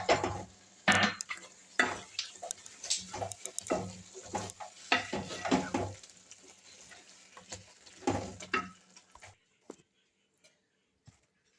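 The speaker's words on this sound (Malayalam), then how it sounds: "അതങ്ങ് ഇളക്കണം" Chicken curry with curry leaves and coriander is stirred in a pan, giving close, irregular scraping and clattering bursts of the spoon that stop near the end, leaving quiet.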